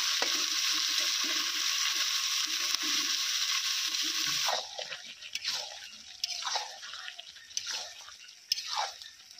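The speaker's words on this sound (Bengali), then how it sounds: "পেঁয়াজগুলো হালকা ভাজা হয়ে গেছে এবং ব্রাউন কালারও এসে গেছে" Chopped onions frying in a pan of oil after green chillies for a village-style rice dish, a steady close sizzle for about four seconds, then softer intermittent stirring and crackling with scraping.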